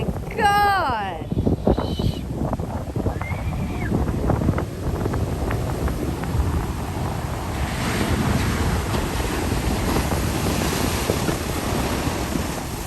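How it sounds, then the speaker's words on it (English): Large ocean waves surge and wash onto a beach in Mexico, a broad roaring rush with wind buffeting the microphone and a voice shouting briefly at the start. "But the waves were getting huge."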